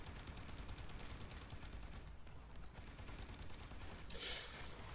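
Gunfire in a shooter video game, a shotgun-armed battle: dense, continuous rapid shots and bursts, faint overall, with one brighter crack near the end and no talk.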